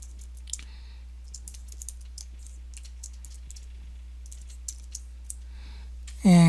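Someone types code on a computer keyboard, producing sparse, quiet clicking keystrokes in irregular bursts over a low steady hum, with a louder sound cutting in at the very end.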